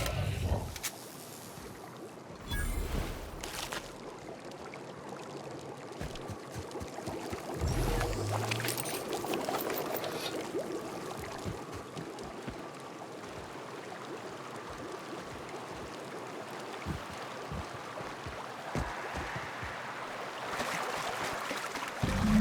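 River water flows steadily through an outdoor area in the video game The Outer Worlds, a continuous broadband rush with a few brief louder splashes and thumps, and no voices.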